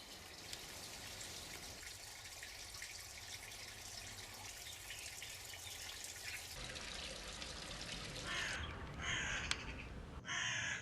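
Crows caw outdoors, a few harsh calls close together near the end, over a steady background hiss of wind or running water.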